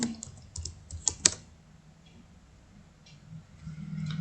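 Typing on a computer keyboard while entering a payment voucher narration, a quick run of close, crisp key clicks followed by quieter sparse taps and faint room noise, no talking.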